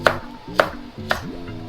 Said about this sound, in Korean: 그리고 생강은 얇게 편으로 썰어 주시고요